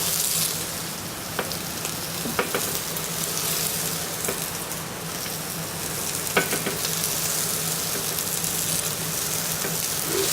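Onions, celery and thyme fry lightly in a pan for stock, making a loud, even hiss of sizzling oil like steady rain, with a few faint clicks of stirring and no talk.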